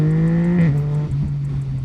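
Yamaha MT-09 SP three-cylinder motorcycle engine droning steadily at high revs, with a brief dip and pitch drop as the quick shifter snaps through a gear change mid-pull, then carrying on loud and close.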